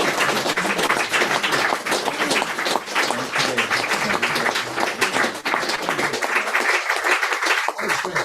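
Audience applause following a poetry reading, a dense, steady wash of many hands clapping that carries through the whole stretch at an even, fairly loud level.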